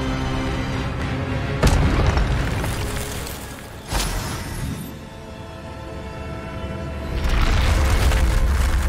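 Incendio fire spell cast in Hogwarts Legacy: a dense roaring, rumbling burst with sharp booming swells, loud and continuous, with an abrupt cut and renewed surge near the end.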